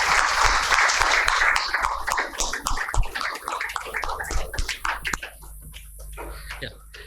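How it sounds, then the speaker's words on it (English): Warm applause from a conference audience welcoming the chief guest, an Agriculture Commissioner of the Government of India, to the dais at an event; dense, steady clapping that fills the room and thins out toward the end. "Ladies and gentlemen, we can give them a warm applause."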